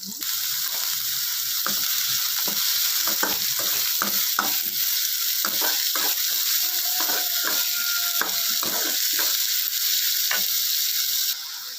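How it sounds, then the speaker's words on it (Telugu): Onions and green chillies fry in a little oil in a pan, giving a steady, close sizzle throughout with frequent light clicks and scrapes of stirring; no one talks. "ఇందులోనే కొంచెం ఆయిల్ ఉంచుకొని ఇందులో ఆనియన్స్ గ్రీన్ చిల్లీ చేస్తున్నాను"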